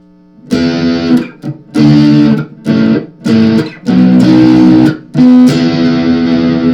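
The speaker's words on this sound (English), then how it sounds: "And now we'll put some distortion on." A cheap $59.99 electric guitar with distortion, chords strummed in short bursts with brief pauses between, loud and gritty, several separate chords ringing out.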